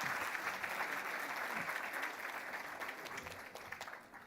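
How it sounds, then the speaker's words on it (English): Sustained applause from an audience at a women in finance and insurance summit in Namibia, dense steady clapping that fades slightly toward the end, with no speech over it. "Let's please give them another round of applause."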